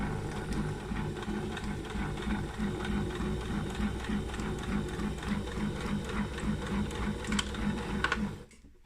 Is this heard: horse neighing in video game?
no